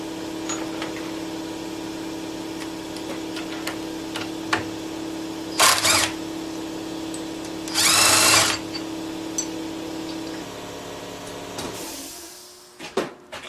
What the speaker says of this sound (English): all we have to do now is just counterbore that